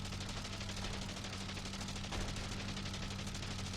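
A biplane's machine gun fires in the game Wings, a dense, rapid rattling burst that runs continuously and evenly, slightly muffled, with no pause across the whole stretch.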